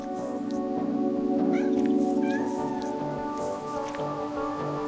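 Kittens on a farm at bath time meow softly a few times, short rising cries over a steady background hum and faint patter.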